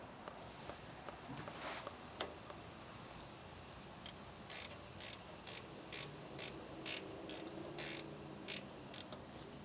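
Ratchet tightening a bolt on the brake caliper of a 2012 Ford F150 3.5L, a faint run of about ten quick clicking strokes in steady rhythm after a few isolated taps, close by in a quiet garage.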